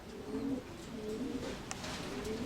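Soft, repeated low cooing of pigeons over a hazy background, several calls in a row, fairly close.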